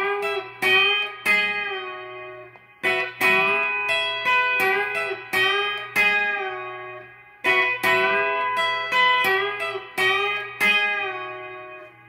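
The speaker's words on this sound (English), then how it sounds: "You bend it, play it once, and do a descending bend." Electric guitar played solo with string bends, including a descending bend, in short repeated phrases of bent notes separated by brief pauses.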